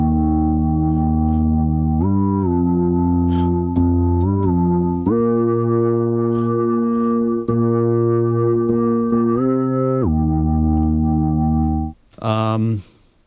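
A synthesizer on an FM preset plays sustained tones that step between pitches in long held notes, with a short burst of brighter sound near the end and no talking.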